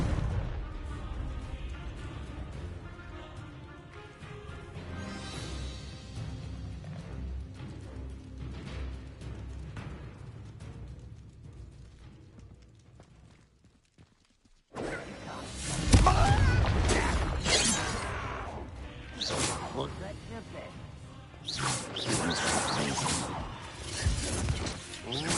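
Confringo fire-blast spell in Hogwarts Legacy erupting mid-combat: after a near-silent gap, a loud sudden burst of crackling, whooshing blasts and impacts follows, with repeated explosive hits over game music.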